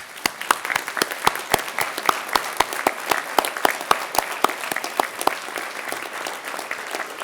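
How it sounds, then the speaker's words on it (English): Sustained round of applause from graduates at a CBU fall commencement ceremony, steady dense clapping from a crowd with sharp individual claps standing out, continuing evenly throughout without speech. "And I'd ask my fellow graduates to join me in a round of applause."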